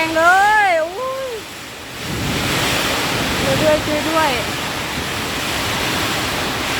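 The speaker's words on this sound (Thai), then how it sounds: "ลมแรงพี่น้องโอ้ย น่ากลัวจังเลยอ่ะ" A summer storm's strong wind and heavy rain roar steadily as a dense, close rush of noise, while a frightened voice cries out at the start and again briefly midway.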